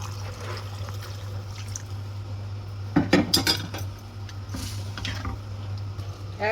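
Water is poured into a pot of bitter gourd pitlai cooking with tamarind juice and ground spice paste, a short splashing pour with a clink of utensils over a steady low kitchen hum.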